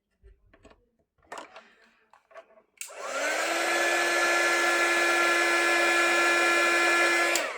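A heat gun switches on and blows with a steady, loud whirring roar for several seconds while drying watercolor crayons, after a few faint handling noises.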